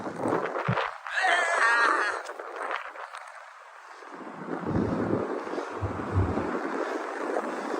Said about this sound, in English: Oh, that fucking wind.